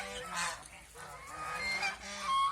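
Domestic geese honk nearby in a flock kept for sale, with several overlapping nasal calls rising and falling across the moment.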